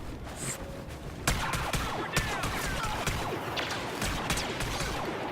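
Pistol fire in Star Wars Battlefront rings out over a busy battlefield, sharp reports and blaster-like zips repeating amid continuous explosions and crashes, loud and dense.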